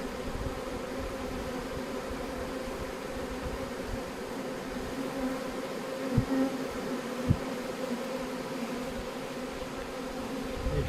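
A honeybee swarm fans and hums steadily as the bees enter a hive, a dense, even buzz throughout with a couple of faint knocks.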